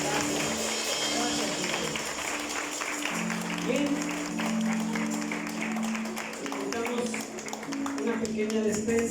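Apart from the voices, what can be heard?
congregation applause in church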